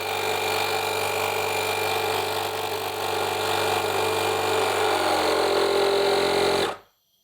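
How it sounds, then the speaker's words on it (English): A Parkside PKA-20 cordless air compressor runs with a loud, steady motorized drone and rattle for about seven seconds, then stops abruptly and falls silent. "And the compressor is working fine."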